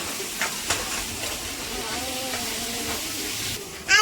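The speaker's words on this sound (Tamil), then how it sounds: "இஞ்சி பூண்டெல்லாம் நல்லா வந்து வதங்கிடுச்சு." Crushed ginger, garlic and green chilli paste sizzling with onions in a pan, a steady frying hiss with a few brief clatters and a louder burst near the end.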